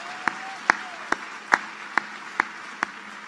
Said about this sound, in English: Just another round of applause for Grace, please.